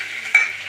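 Garlic and green chillies for a carrot curry hit hot oil in a short, steady sizzle, with a quick stirring scrape partway through, close and fairly loud, with no talk.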